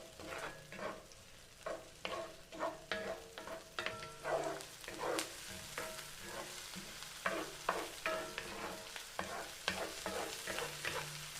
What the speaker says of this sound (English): Now we're sizzling, add in the onion.